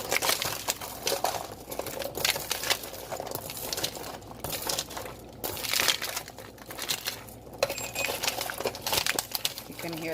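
Continuous crinkly scraping and rustling as a banana pudding popcorn mixture is stirred in a baking pan, a busy textured rattle of coated popcorn that stays fairly steady throughout, with no clear talk.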